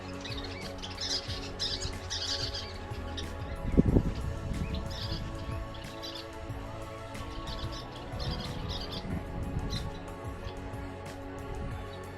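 Kingbirds, orange-crowned warblers and yellow-rumped warblers chirp and sing outdoors at a Colorado lake park, with overlapping high calls over a low background rumble.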